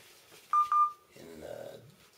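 Two short electronic phone keypad tones beep in quick succession, close and clear, followed by a quiet voice murmuring.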